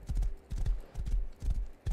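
Horse hooves galloping in the video game Rust, in steady rhythmic bursts, loud and close, with a heavy thudding beat repeating about every half second.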